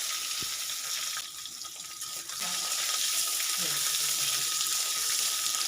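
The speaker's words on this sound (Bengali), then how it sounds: "এখন এই তেলের ভিতরে আমি আগে থেকে কেটে রাখা আলুগুলোকে ভেজে নেব" Small cut potatoes fry in hot oil with a continuous, close hiss and sizzle, while a few soft clinks and stirring noises sit under it.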